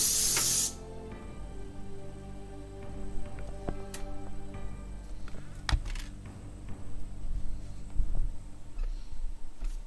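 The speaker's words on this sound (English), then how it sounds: "Compressed air!" A short, loud blast of compressed air spraying to clean equipment opens the sequence, then cuts off, leaving quieter ticks, clicks and faint mechanical hum behind it.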